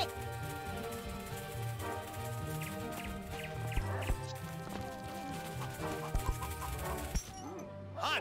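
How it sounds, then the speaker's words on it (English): Chicken clucking in a football video game featuring dogs, short bursts over busy game music and effects, with clip-clop-like taps and a voice talking alongside. "You guys hear a chicken?"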